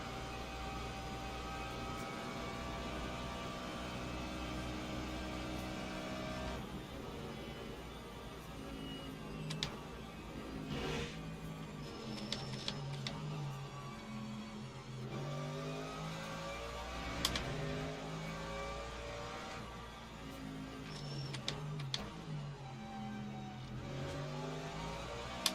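GT3 race car engines in the Le Mans Ultimate racing game drone and rise and fall through gear changes, with several cars close together in a slipstream. The sound runs continuously at a fairly low level.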